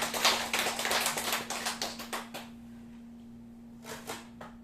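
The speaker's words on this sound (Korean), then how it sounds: "할렐루야 박수." Korean church congregation giving a hallelujah clap during a sermon: a quick run of loud, rhythmic, unison claps that stops abruptly after a couple of seconds, followed by a brief quiet and a few scattered stray claps.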